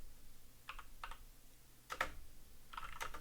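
Computer keyboard typing while entering code for an if-else statement, a few short bursts of clicky keystrokes separated by pauses, fairly close and moderately quiet, with no talking.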